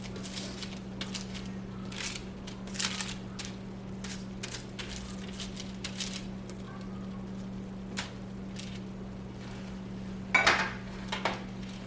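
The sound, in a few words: stirring veggie spaghetti with asparagus in a pan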